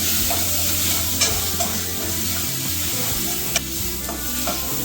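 Bottle gourd and shrimp stirred in a frying pan, a loud dense sizzle running throughout with occasional spatula scrapes and taps, close and alone.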